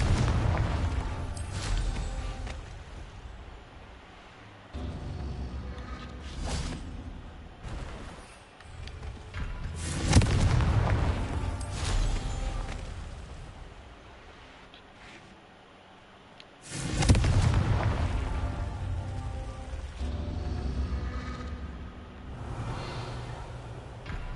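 Repeated fiery spell blasts from the Confringo curse in the Hogwarts Legacy video game, loud booming bursts arriving in several waves with rumbling decay between them, no talking.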